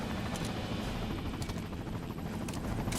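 Helicopter in the GameCube game Resident Evil 4, a steady loud rotor thrum and engine roar filling the scene without pause.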